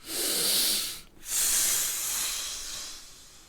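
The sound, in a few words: deep exhale clearing the lungs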